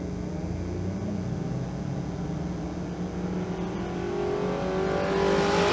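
A square-body drag race car with a Ram Air opening pointed out front idles and revs at Twin Cities Raceway. The engine drone is steady and loud throughout and swells louder toward the end.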